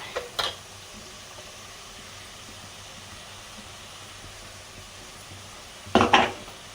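Metal utensils clank against a pan while fish gravy cooks, two distinct bursts of scraping and clattering near the start and end, with a quiet steady hiss of frying between them and no voices.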